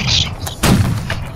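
Volley of musket gunfire in the line-battle game Holdfast, a broad booming burst roughly midway through, preceded by smaller scattered shots and followed by lingering rumble over a busy battlefield background.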